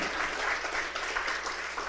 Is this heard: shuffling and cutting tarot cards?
no